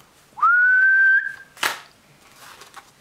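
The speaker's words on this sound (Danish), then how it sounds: "så han fløjter." A single clear whistle from a person during the Danish card game Brus, starting with a quick upward slide and holding a steady pitch for nearly a second, followed by a rustle and faint background noise.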